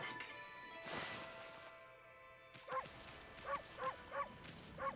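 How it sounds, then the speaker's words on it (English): A wolf character in a video game gives a series of short barks, about five sharp yips in the second half following a quieter stretch of game ambience with a faint early bark. "There's a dedicated bark button"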